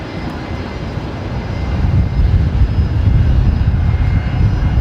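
A Western Global Boeing 747 lands at Brisbane Airport on runway 19 left, a broad low engine roar that swells and stays loud and sustained, heard from a distance.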